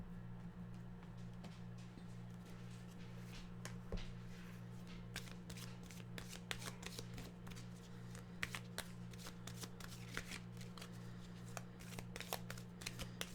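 A deck of animal oracle cards is shuffled by hand indoors, giving a run of soft, close riffling and flicking sounds over a low steady hum, with no talking.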